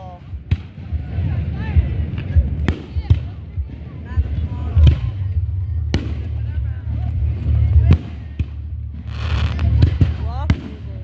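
Fireworks exploding outdoors, a series of sharp irregular bangs and pops over a dense crowd murmur and voices, with a crackling burst near the end.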